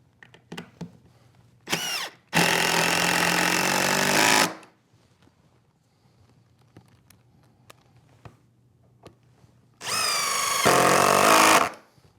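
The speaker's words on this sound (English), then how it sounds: "I'm going to use some long screws to drive through the top of the leg stop into the tabletop." A power drill drives long screws through a leg stop into a wooden tabletop in two sustained bursts, each a few seconds long, with a short blip before the first, separated by quiet workshop background.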